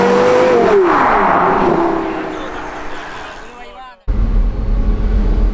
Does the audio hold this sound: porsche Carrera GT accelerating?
yes